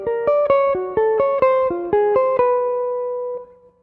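Guitar triads plucked with an up-down-down-down-up picking pattern, eleven crisp evenly spaced notes stepping through shifting pitches before a final note rings out and fades, close and alone.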